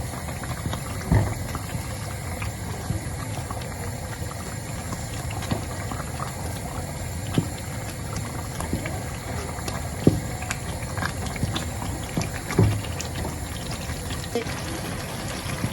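Mushroom shito being stirred in a pot, a continuous close bubbling and wet churning with occasional clicks of the spoon against the pot.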